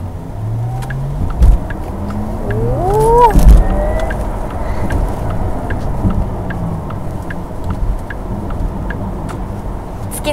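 A Porsche Taycan Turbo S electric car accelerating hard uphill, its rising electric motor whine sweeping upward over steady road and tyre rumble, heard from inside the cabin, loud and continuous.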